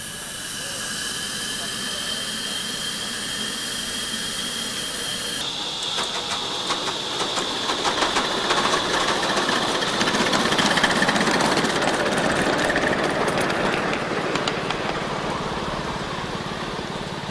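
A small coal-fired engine named Echidna running at an outdoor engine rally, giving a steady, loud mechanical roar and hiss that thickens into a rattling rush partway through.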